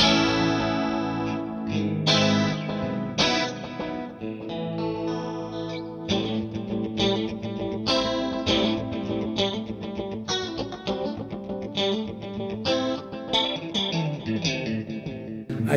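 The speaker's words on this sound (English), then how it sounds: "Let's see about going to a hall reverb." Electric guitar played through a hall reverb effect in a stereo effects loop with two amps, with chorus and slight distortion; a sequence of strummed chords and picked notes ringing out with a lingering, spacious tail, no talking.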